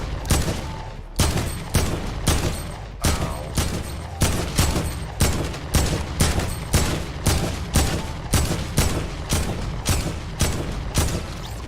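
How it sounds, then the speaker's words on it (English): Rapid gunfire in Fortnite on an aim practice map, shooting at targets: loud, evenly spaced bursts of shots with brief pauses between them, repeating for the whole stretch with no talking. "just try shooting the targets"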